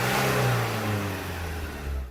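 A Renault Duster 1.5 dCi engine with an ECU software fault revs at high, steady speed with a continuous loud whir, gradually easing off slightly toward the end.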